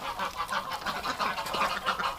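Several ducks quack busily nearby in a short outdoor burst, overlapping nasal calls rising and falling without pause; geese may be among them, and no voices are heard.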